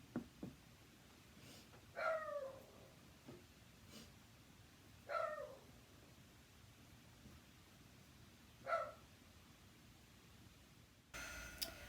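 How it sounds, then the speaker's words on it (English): A dog barks outdoors at a squirrel: three separate short barks, spaced a few seconds apart and moderately distant, over a quiet hissy background. "I'm pretty sure my dog's about ready to start barking at a squirrel"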